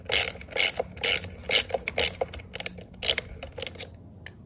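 The trimmer head of an EGO string trimmer is turned counterclockwise by hand, giving a series of sharp, close ratcheting clicks in quick bursts that thin out and fade toward the end.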